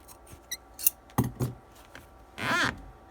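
Scissors snipping off a tail of knitting yarn: a few short, close clicks and a quick metallic snip near the end, quiet and isolated with no speech.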